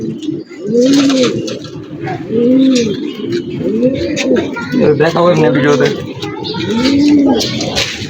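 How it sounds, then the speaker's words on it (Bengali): Pigeons of an old traditional breed coo in a loft, with repeated rolling coos rising and falling several times, close and clear, alongside faint chirps and rustling. "এই পাশে আরো আছে আপনার কবুতর বাচ্চাগুলো"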